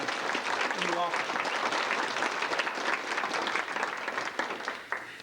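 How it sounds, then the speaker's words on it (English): Audience applause for new board members and officers at a 1992 gathering in Colorado, a dense, sustained wash of many hands clapping at steady loudness that tapers slightly near the end. "Would you give a round of applause first, however, to our new board members and new officers."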